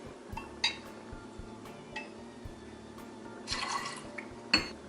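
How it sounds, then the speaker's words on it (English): Lillet Blanc poured into a mixing glass for a Vesper-style martini: soft liquid trickles and drips with a few light glassy clinks, close and quiet, ending in a brief splashing pour. "put ½ ounce of this into our mixing glass."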